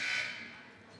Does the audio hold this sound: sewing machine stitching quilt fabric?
no